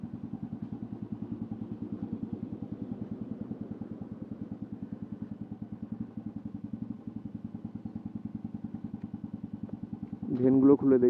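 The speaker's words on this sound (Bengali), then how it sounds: "কিছুক্ষণ গরম হোক, মানে অনেকদিন ধরে তো বাইক চলেনি সেরকম করে।" A motorcycle that had not been ridden for a long time idles steadily to warm up, its even, rapid mid-pitched putter running close and unbroken, then it is briefly revved near the end.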